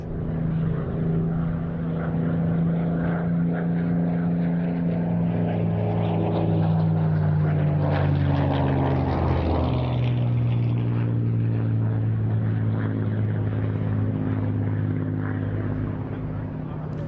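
A Spitfire propeller fighter flies past at an airshow, its engine drone steady and loud throughout, swelling slightly mid-pass with a shifting pitch as it moves overhead.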